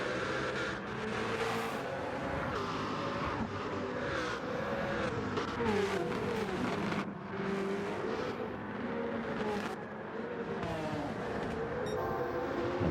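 Toyota Gr2 race cars battling in a racing video game, a continuous roar of engines with cars surging and passing, revs rising and dropping over the whole stretch, no voices.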